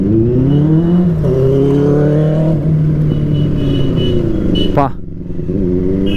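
A Benelli motorcycle fitted with a full-system exhaust revs loudly and close, its engine tone climbing and dropping while people talk over it.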